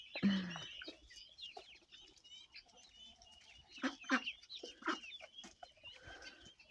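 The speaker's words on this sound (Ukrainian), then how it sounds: "Самець цесарки." A male guinea fowl among chickens and other poultry in a farmyard, with scattered clucks and sharp calls, a loud burst at the start and bursts of squawking later, fairly close.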